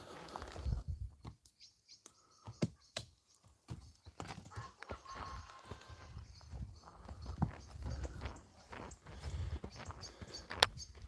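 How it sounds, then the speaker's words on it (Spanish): A horse walks outdoors, its hooves clip-clopping in an irregular series of close, sharp knocks, with faint bird calls in a quiet background. "Caballo."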